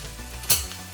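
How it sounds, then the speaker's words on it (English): Garlic and onions frying in a hot pan give a steady crackling sizzle, with a brief louder hiss burst about halfway through, close and on their own. "Pan is nice and hot, and we're just gonna cook it just for a couple minutes."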